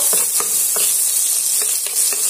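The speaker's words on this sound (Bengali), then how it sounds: "পেঁয়াজটা আমি তেলের সঙ্গে দিয়ে আমি একটু ভালো করে ভেজে নেব" Oil hisses and sizzles steadily as onions fry in a pan, with a few soft scraping strokes of stirring.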